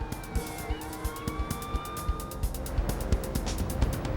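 Police sirens wail with rising and falling tones over road noise and a steady rhythmic rumble, growing louder as they come closer.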